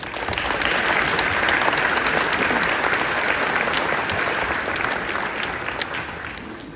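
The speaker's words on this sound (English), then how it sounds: "I'd like to have another round of applause for all the family and friends" A graduation audience gives a dense, steady round of applause that holds strong for several seconds and then slowly tapers, with no talking over it.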